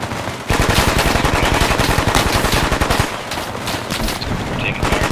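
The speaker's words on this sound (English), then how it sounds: "We're taking fire from the east." Rapid automatic gunfire in a tactical video game, loud and close, with dense rattling bursts running almost continuously and a few brief gaps.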